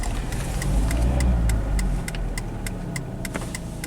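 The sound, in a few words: Dodge Neon in limp mode rolling backwards, engine running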